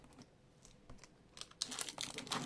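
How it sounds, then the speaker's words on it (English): A cardboard box being opened makes faint crinkling, tearing and rustling sounds that build in intensity toward the end, close by and without talk. "let's open the box"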